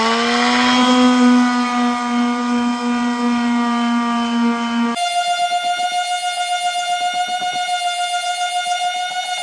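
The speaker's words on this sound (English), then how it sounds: "We're gonna sand this smaller one" A power sander works a small wooden board for a fishing rod holder, giving a steady, close motor whine that shifts to a different pitch halfway through and then keeps a slightly pulsing hum.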